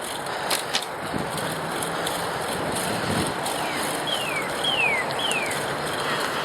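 Several short, descending bird chirps ring out in quick succession beside the Lower Don bike trail in Toronto's Don Valley, faint above a steady wash of distant traffic and wind.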